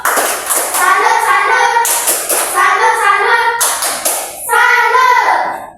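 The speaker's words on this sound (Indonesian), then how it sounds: "Ya, tepuk salut untuk Erwin dulu" A classroom of pupils performing a rhythmic 'tepuk salut' clapping chant for a classmate during a maths lesson: loud, close, patterned bursts of claps in repeated phrases, mixed with children's chanting voices.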